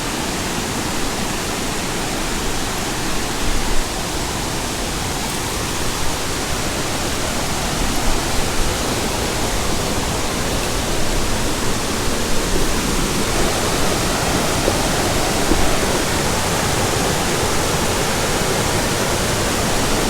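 A waterfall pours in a loud, unbroken broadband roar for the whole stretch, heard up close and steady with no voices over it.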